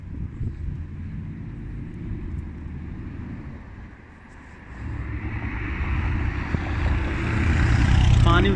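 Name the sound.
car passing by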